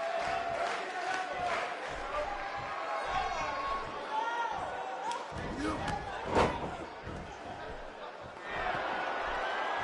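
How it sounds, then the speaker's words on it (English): Excited arena crowd noise in the wrestling video game WWE 2K18 rumbling under loud, fast commentary, with a sharp thud midway and the crowd surging again near the end. "I don't think I've ever heard this Uniondale crowd more excited for a match"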